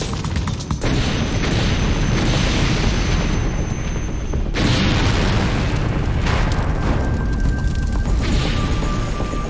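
A loud, continuous roar of a large chemical explosion fills the clip, with a sharp break partway through and rumbling, crackling debris throughout.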